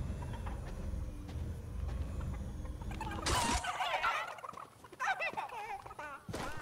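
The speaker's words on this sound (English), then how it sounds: "So you can grab these chickens and fly with them." Chickens on a farm in the Fortnite video game give clucking, gobbling fowl calls in short bursts, mixed with other game sounds and movement noise.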